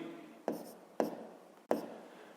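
Pen writing on paper during a math exercise, three distinct scratchy strokes spaced about half a second apart, close and quiet.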